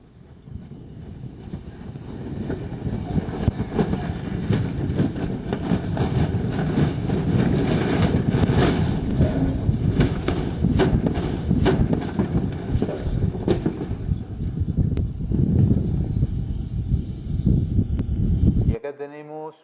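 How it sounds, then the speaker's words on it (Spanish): A helicopter tears itself apart from resonance, a dense, continuous roar of grinding and rattling with a steady high whine above it, loud throughout until it cuts off abruptly. "podemos observar los efectos dramáticos de la resonancia en la destrucción de este helicóptero"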